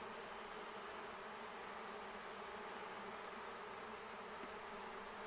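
A swarm of honeybees that has left a new backyard hive gives a constant, dense buzzing drone, faint and steady throughout with no talk.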